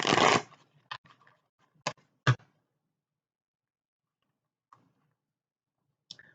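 A short burst of tarot cards being shuffled, then a few scattered soft clicks and taps of cards being handled in near silence.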